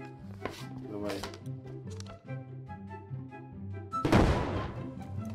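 A bazooka fires at a house in the building game Brick Rigs, a single loud burst near the end, preceded by background game music with steady beats and voices talking.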